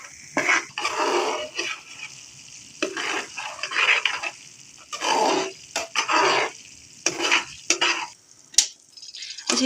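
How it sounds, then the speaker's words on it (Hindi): Semolina roasts in a pan for suji halwa, with repeated close scraping and stirring strokes in uneven bursts over a faint sizzle. "अब इस सूजी को भूनना है अच्छी तरह से।"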